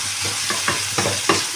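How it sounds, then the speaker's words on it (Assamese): Capsicum and peas fry in oil in a pan, a steady close sizzle with a few soft stirring scrapes and clinks, and no voices. "এইখিনি মই 5 মিনিট সময় ভাজিম"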